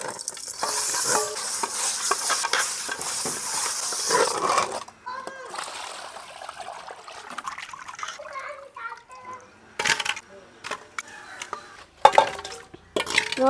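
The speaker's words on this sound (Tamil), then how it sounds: "கல் உப்பு போட்டு உடச்சி எடுத்துக்கணும்" Pomfret fish being scrubbed by hand with rock salt and water gives wet, gritty rubbing and splashing in uneven bursts, close by, with voices talking over and between the scrubbing.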